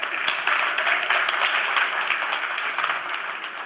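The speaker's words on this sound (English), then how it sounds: "Can we have a huge round of applause for Vikram and Jen?" Audience applause at a smartphone launch event in India, a steady dense wash of clapping throughout, moderately loud with crowd noise.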